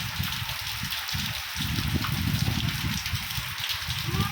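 Rain pours down in Dhaka, a loud, continuous wash of drops with heavy low rumbling mixed in, close and unbroken for the whole stretch.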